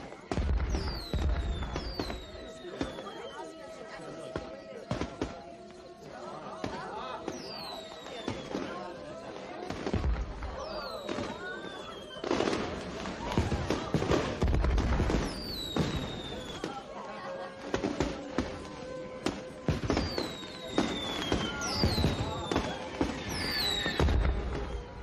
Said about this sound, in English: let's go on and see the fireworks